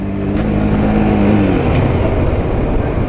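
A Mahindra Mojo motorcycle engine revs and pulls hard on the road, a loud, close, steady drone with a rising then falling pitch as it accelerates, with no talking.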